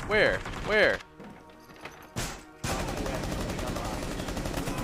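Video game gunfire: a speaking voice at the start, then a couple of sharp shots and mechanical clatter, followed by a sustained loud burst of rapid, overlapping gunfire to the end.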